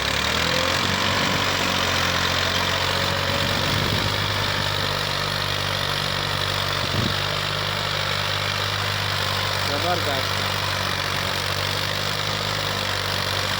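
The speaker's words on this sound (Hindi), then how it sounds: "बहुत ज़बरदस्त 4 मॉडल ट्रैक्टर है" A Model 240 tractor engine idles with a steady, loud low rumble that runs throughout, and someone speaks briefly over it.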